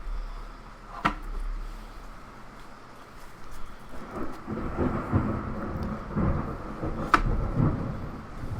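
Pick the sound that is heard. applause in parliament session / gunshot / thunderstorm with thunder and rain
thunderstorm with thunder and rain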